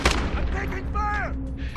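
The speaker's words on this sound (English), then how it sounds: "I'm taking fire!" Gunfire from a Call of Duty Modern Warfare game: a loud blast opens, followed by a short burst of shots with radio-style voice chatter layered over it.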